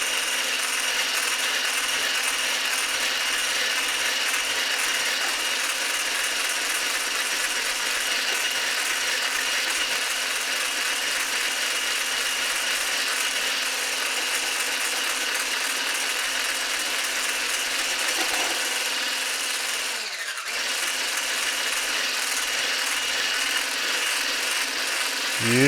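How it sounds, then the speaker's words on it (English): Egg whites being whisked by hand for tiramisu, a steady, continuous rapid whirring and rattling that holds at the same loudness for the whole stretch, close by with no talking. "we have to whisk the egg whites up like this"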